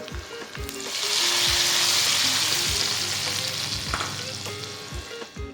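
Loud, continuous sizzle of a tadka tempering in a hot pan for Maharashtrian-style paneer tikka masala, swelling after the first second and holding steady, with occasional low knocks of stirring beneath.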